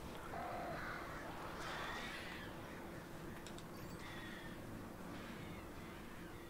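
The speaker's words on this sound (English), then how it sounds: "I don't want to take my eyes off of these birds" Crows caw in Alan Wake Remastered, faint scattered calls over a dense, constant ambient rumble, no voices.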